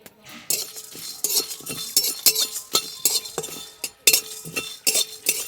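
Whole spices (dried red chillies, black peppercorns, cumin and coriander seeds) dry-roasting in a pan, stirred with a metal spoon: repeated scraping and clinking taps against the pan with faint light crackling, close and steady, no talking.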